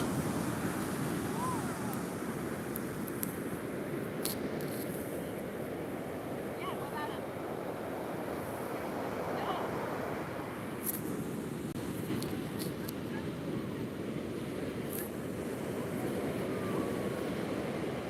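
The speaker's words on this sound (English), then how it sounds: "Nice waves there." Ocean waves break and wash steadily onto the beach at Half Moon Bay, a continuous rushing surf roar with wind buffeting the microphone and no speech.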